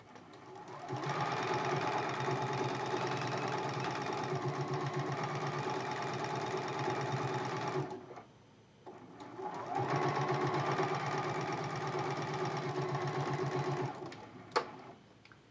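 A sewing machine stitches steadily in two long runs with a brief pause between, its motor humming loudly and evenly at close range.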